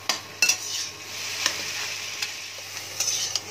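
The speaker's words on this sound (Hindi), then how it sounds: "और अच्छे से मिक्स करूंगी। और इसे मैं दो तीन मिनट तक थोड़ा पकाऊंगी इसमें मसाले के साथ।" Jackfruit kofta masala is stirred and fried with spices in a pan, with a soft steady sizzle broken by sharp scraping clicks of the spoon against the pan at irregular intervals.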